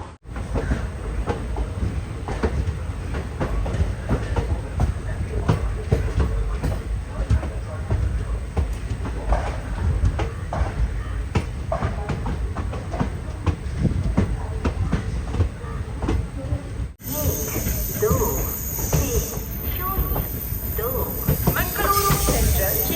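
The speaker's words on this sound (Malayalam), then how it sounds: "മംഗളൂരു സെൻട്രൽ റെയിൽവേ സ്റ്റേഷനിൽ കറക്റ്റ് 12:45 തന്നെ നമ്മുടെ വണ്ടി എടുത്തിരിക്കുകയാണ്," The Matsyagandha Express pulls out of Mangaluru Central railway station, its steady rumbling rail noise and clatter continuing throughout, with a brighter hiss joining near the end.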